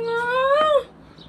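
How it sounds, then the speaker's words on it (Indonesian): A cat gives a single drawn-out meow close by, with a rising and falling harmonic cry lasting under a second, followed by faint background noise. "this cat"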